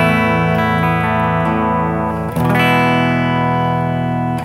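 An electric guitar played through the clean channel of a Line 6 Spider IV 15-watt amp, sustained chords ringing fairly dry with a faint touch of reverb, one chord change midway, loud and close with no talking.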